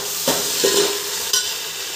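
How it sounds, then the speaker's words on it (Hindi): Green peas are tipped into a hot tadka of spices and oil in a pot, setting off a close, steady sizzle with a few brief rustling bursts as they hit the fat and are stirred. "ये मम्मी का तड़का तैयार हो गया है और इसमें मम्मी हरे हरे सुंदर सुंदर मटर को भी डाल रही हैं।"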